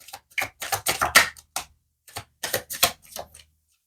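Cards drawn one by one from a deck, giving a run of close, crisp flicking and tapping sounds in quick bursts with a short pause midway.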